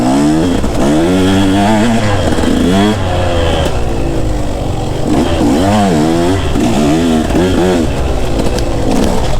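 Enduro dirt bikes, a KTM 150 and a Husqvarna 350, ride a wooded trail, their engines loud and close, revving and dropping in repeated surges with a steady low drone and some clatter throughout.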